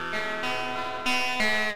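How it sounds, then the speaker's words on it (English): A few electric guitar chords played through asymmetric distortion in a circuit simulation, strummed in succession, gritty and buzzing, each ringing briefly before the next. "we can try out some asymmetric distortion"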